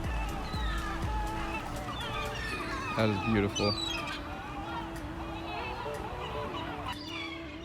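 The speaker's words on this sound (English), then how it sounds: "There's so many freaking birds around here. I don't know what's going on. It's like a little feeding frenzy. Let me show you. Look at these seagulls." A flock of seagulls squawks and cries in a busy feeding frenzy outdoors, overlapping calls at moderate distance with a sharper burst of honking cries near the middle, while a person speaks briefly over them.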